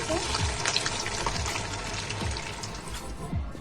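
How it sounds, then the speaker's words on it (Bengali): Oil bubbles and crackles in a steady, busy sizzle as food deep-fries, with faint clinks and kitchen noise mixed in. "আবার ভেজে নিচ্ছি কারণ এখন আমাদের সবগুলো ভাজা হয়নি অ্যাকচুয়ালি ডুবো তেল আমরা ভাজছি"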